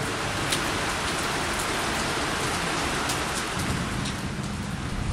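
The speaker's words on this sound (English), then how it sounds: "Despite a distant typhoon causing heavy rain most of the week" Heavy rain from a distant typhoon pours steadily in Hong Kong, a dense, loud, unbroken hiss of drops striking surfaces with no pause throughout.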